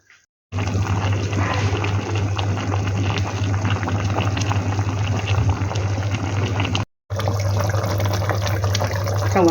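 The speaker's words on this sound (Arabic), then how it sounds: "ممكن حتى نحطه على مية تجلب على النار تغلي" A pot of water for cooking meat boils over a fire, a steady, loud bubbling roar with a low hum underneath, broken by a brief gap before resuming, with no talk.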